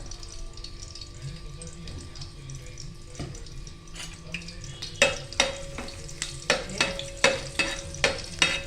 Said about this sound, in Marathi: आपण लसूण तांबूस करून घेतो